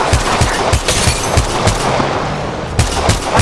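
Rapid automatic gunfire from the mobile shooter Apex Legends Mobile, loud, close bursts of shots repeating in a steady, dense rhythm throughout.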